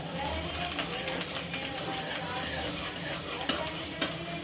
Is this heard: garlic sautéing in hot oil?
yes